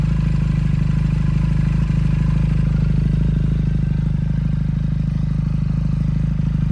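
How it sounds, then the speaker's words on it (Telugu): A Benelli TNT Tornado 300i motorcycle engine idles right beside the listener, a steady loud low throb with a fast even pulse that holds without a break. "ఇంజన్ దగ్గర సౌండ్."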